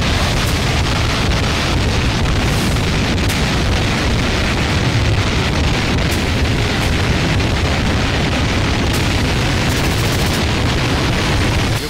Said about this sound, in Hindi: यूक्रेनी पोजीशन पर रॉकेट और KH-101 मिसाइल से भीषण प्रहार हुआ।